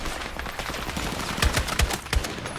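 Video game gunfire during a military firefight, a handful of short, punchy shots in a quick burst over a steady background rumble of battle ambience, fairly close, no speech.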